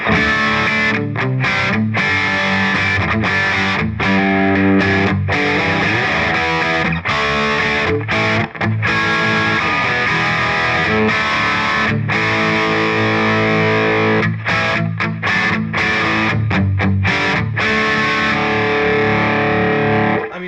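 A distorted electric guitar dialed to a tone with boosted mids through a Boss Katana Artist MKII amp plays a continuous riff of chugging chords and sustained notes, loud and close with no talking.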